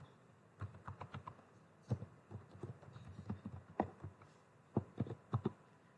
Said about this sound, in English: I am typing here variable name